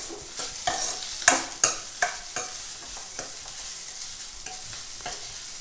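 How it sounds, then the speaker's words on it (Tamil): Brinjal sautés in a pan for a spicy stir-fry, a low sizzle beneath a series of distinct spatula scrapes and knocks that come quickly at first, then grow softer and sparser. No voices. "நம்ம கத்திரிக்காய் நல்லா வதங்கிருச்சு, நல்லா வெந்துருச்சு பாருங்கள்"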